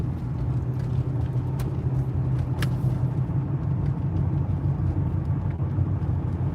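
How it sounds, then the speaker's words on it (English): A car in motion, heard from inside as a steady low road rumble and engine drone that holds at an even level, with a couple of faint clicks and no talk. "I'm driving."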